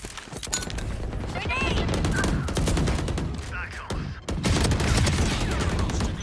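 Gunfire in the shooter game Valorant: dense, continuous rapid bursts and cracks that stay loud throughout, with voices faintly mixed underneath.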